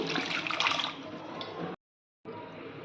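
Water used to rinse a stone grinding slab is poured into a fish curry of seer fish being prepared, a close splashing pour that stops abruptly and resumes after a brief silence.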